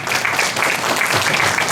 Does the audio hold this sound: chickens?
no